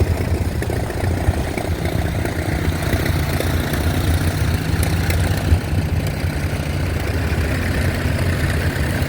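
A John Deere tractor engine runs steadily at a vintage steam fair, a continuous low, rumbling idle that holds close and loud throughout with no talk over it.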